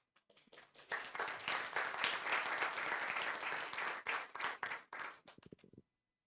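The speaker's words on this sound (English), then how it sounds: "Let's give one more round of applause for Cynthia." Audience applause at a Juneteenth panel discussion, a dense burst of clapping that swells after a faint start, holds steady, then thins into a few scattered claps before stopping.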